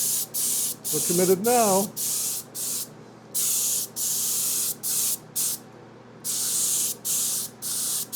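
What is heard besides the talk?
spray painting a model aircraft wing black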